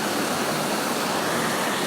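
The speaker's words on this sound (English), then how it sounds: "This is a stepped spillway down into the tailwater." Water pours over a stepped dam spillway into the tailwater, a loud, steady, close roar of rushing water.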